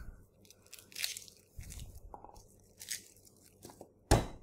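Garlic cloves are smashed for Indonesian yellow rice, heard as a few scattered crunches and thumps of varying loudness. A sharp, louder crack lands near the end, and nobody speaks.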